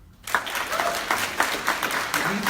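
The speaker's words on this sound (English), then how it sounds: "Stop clapping, people." An audience at a county district attorney candidate forum bursts into steady applause, a dense wash of many hands clapping at once that stays fairly loud and even throughout.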